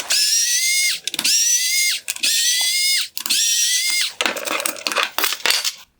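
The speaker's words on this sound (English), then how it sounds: "Next, I'm going to release the 4 T20 screws holding on the AFS motor." A power driver removes four T20 Torx screws from the AFS motor of a 2013–2017 Range Rover xenon headlight, giving four close, high whirring bursts of about a second each, followed by rattling clicks and handling noises.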